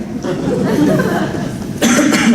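Rough, harsh coughing bursts, loud and close, with a short pause before a final forceful cough.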